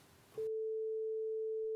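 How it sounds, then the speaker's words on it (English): An IVOR virtual analog microtonal synthesizer set to a saw waveform sounds one steady, pure sustained tone that starts abruptly after a short burst of background hiss and holds unchanged to the end. "Let's go for saw and then see what that one sounds like."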